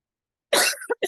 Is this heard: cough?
yes